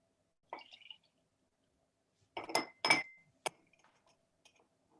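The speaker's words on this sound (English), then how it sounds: "Kelly, you can exchange the water as much as you like, and we'll be quiet so Christina can hear." Water glasses clink and tap as water is swapped between them during a party game: one brief chime, then a cluster of sharp clinks a moment later and a last short tap, close and clear in an otherwise quiet room.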